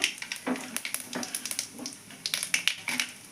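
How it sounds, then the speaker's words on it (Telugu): Tempering seeds, with chana dal, cumin, mustard seeds, fenugreek and dried red chillies, crackling in hot oil in a pan, giving a quick, irregular run of small pops and sizzling snaps, fairly soft and close. "పోపు దించులు వేస్తున్నాను"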